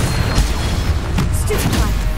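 Blasting-spell explosions in the Hogwarts Legacy video game, a steady rumbling boom-filled battle mix with brief bursts and crackles, loud and dense throughout.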